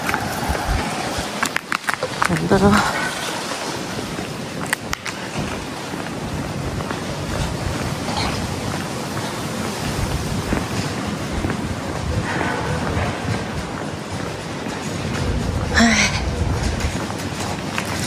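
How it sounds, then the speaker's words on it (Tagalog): Strong wind gusting outdoors in bad weather, a continuous heavy roar buffeting the microphone and rising and falling in gusts, with a voice speaking intermittently over it. "Ang lakas ng hangin."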